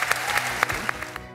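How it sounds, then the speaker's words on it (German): A short burst of clapping, with many hands applauding at once in a steady patter. "Und deswegen kriegt ihr noch mal einen riesengroßen Applaus."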